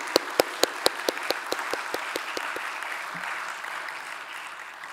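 Church congregation applauds, opening with a sequence of loud, evenly spaced rhythmic claps in unison that soon blend into a softer sustained wash of scattered clapping as it fades.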